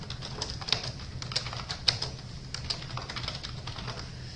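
Typing on a computer keyboard, a steady run of quick, light key clicks with a few sharper taps, close and fairly quiet over a low room hum, with no talk.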